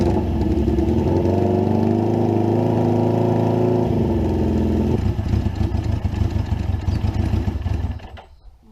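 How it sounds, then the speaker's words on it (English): A Suzuki GS550 rat-bike motorcycle engine with a choke problem starts and runs, a loud steady rumble that shifts in pitch partway through before cutting off near the end, with no talk over it. "let's get this bike started"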